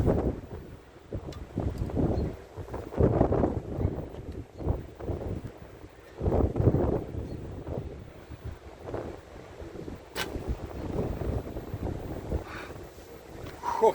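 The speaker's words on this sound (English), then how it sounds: "it's a really cold and windy" Strong cold wind blows outdoors at an archery range, buffeting the microphone in loud, gusty rumbling bursts that rise and fall continuously with no speech.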